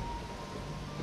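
Rain falls in the video game Risen as a steady, dense hiss with no gaps, with no speech.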